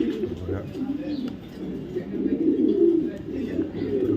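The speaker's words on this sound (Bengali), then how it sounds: "বিআরপিএল e ক্লাবের একটা অরিজিনাল রেসার মাদি কবুতর" An original female racing pigeon from a racing club coos in low, rolling murmurs close by, the soft repeated calls continuing through the moment while someone talks over them.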